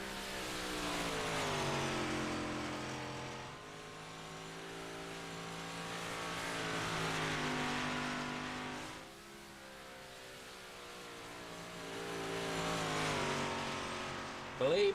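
Race cars warming up on a Knoxville track before a Thursday night race, engines swelling and fading in repeated laps as they pass, heard from a distance at moderate level.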